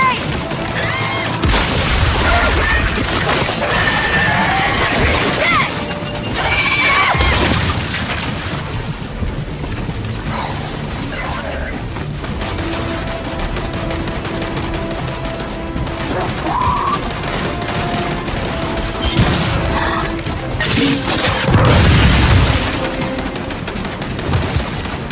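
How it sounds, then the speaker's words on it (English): Gears 5 combat brings loud explosive blasts and bursts of gunfire in close succession, with heavy crashing impacts between them. The action stays intense and near throughout, with occasional voices under the noise. "Throwing grenade!"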